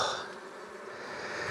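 Dense swarm of honeybees droning steadily around open hives while nucs are made from zombie hives, a continuous close buzz filling the whole moment with no talk.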